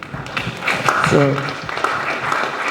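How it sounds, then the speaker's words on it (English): Symposium audience applause, a dense patter of many hands clapping that swells and then holds steady, mixed with voices in the room. "I think she deserves a round of applause too."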